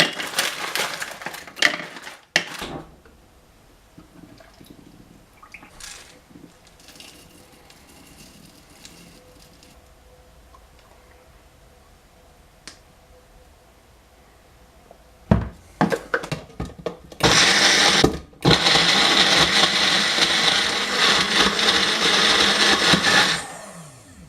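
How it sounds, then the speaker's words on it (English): A kitchen blender whirs through a smoothie, starting as brief bursts early on, then running loud and steady for the final stretch after a quiet middle with small handling noises. "Now I'm going to make myself a smoothie and have some lunch."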